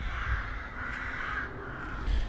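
Crows cawing on and off near a parked Triumph Trident motorcycle, the repeated harsh calls layered over a steady low rumble of outdoor background noise.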